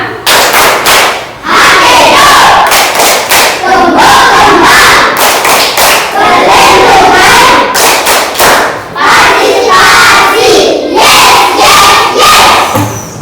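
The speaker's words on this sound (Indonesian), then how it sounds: "Tepuk Hakana" Schoolchildren in a classroom perform the Hakana clap chant, loud unison shouts punctuated by sharp group claps and thumps in a rhythmic pattern, repeated in bursts with short pauses between.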